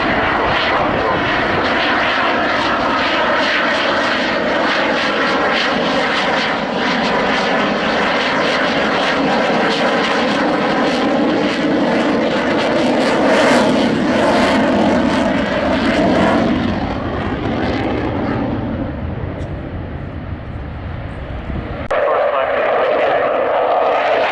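A military jet aircraft at the Waddington air display roars loudly and steadily overhead with a rising, shifting engine whine, tapering briefly before a sharp renewed surge, while people talk beneath it.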